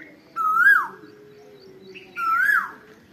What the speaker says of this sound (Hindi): बुलबुलों की आवाजें आ रही हैं